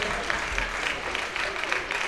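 Applause for number 27 at a Seahawks Kozły American football game, a steady wash of crowd clapping with rhythmic pulses throughout.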